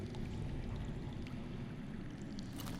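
Underground water flows in the Game of Thrones video game as a low, constant rushing rumble, quiet and unbroken, with a faint brighter trickle near the end.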